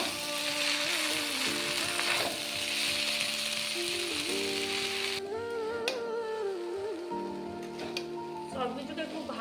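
Chowmein with fried vegetables sizzles in a pan while being stirred, a dense hissing fry under a speaking voice, with the sizzle dropping off partway as the talk continues over softer clatter.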